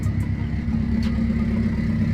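A car with a newly fitted Grimspeed catback exhaust runs at a steady idle, giving a close, even low rumble with a constant hum and no revving.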